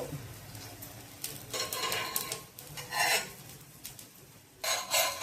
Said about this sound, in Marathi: पुन्हा आपण असं परतून उलटं सुलटं करून चांगलं परतून घ्यायचं भाजून